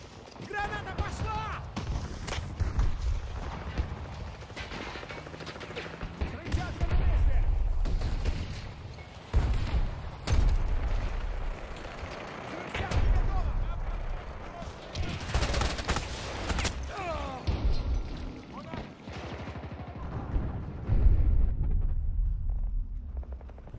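A grenade blast amid heavy gunfire in the Battlefield 2042 multiplayer shooter: dense, continuous bursts of rifle and machine-gun fire with booming explosions, loud and chaotic, with voices calling out over the battle.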